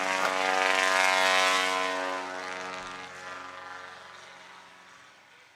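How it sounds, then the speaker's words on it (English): A Piper STOL airplane engine roars during a takeoff at a national STOL competition, a loud, close propeller drone with a steady buzzing tone that slowly fades as the aircraft pulls away. "We're getting a little bit of motors going in. Very loud engines."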